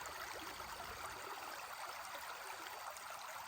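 Creek water flows over a limestone shoal, a steady close rushing babble with no breaks.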